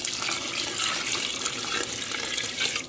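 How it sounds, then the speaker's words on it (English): Water poured steadily into a yarn dye pot holding pre-soaked yarn being dyed with food coloring, a continuous splashing rush heard close and alone for the whole stretch. "so let's add a little more water"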